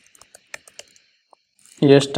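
Typing React Native code on a computer keyboard: a run of sparse, crisp key clicks over roughly two seconds, close and fairly quiet, followed by a louder burst of talking at the end.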